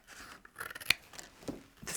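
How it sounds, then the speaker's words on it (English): Scissors snip flaps out of a magic pocket card, a few sharp close cuts with quiet pauses between them and no talking. "what we're going to do is cut out here"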